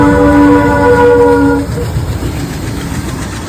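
A train rolls past a lowered railway crossing gate, opening with a loud sustained multi-tone horn blast that cuts off partway, then continuous rumbling and rattling of wagons close by.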